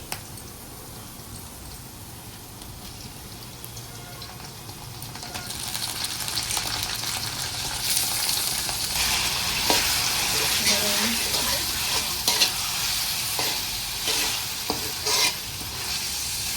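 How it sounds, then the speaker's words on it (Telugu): Chicken frying in a pan with onions and green chilies for sontem kodi fry, a steady close sizzle with stirring scrapes and clicks that grows louder partway through. "చికెను 10 నిమిషాలు మనం ఫ్రై చేసామండి"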